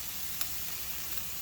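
Chopped whole onion hitting a hot pan of browning ground beef, giving a steady close sizzle with a few small crackles throughout and no talk.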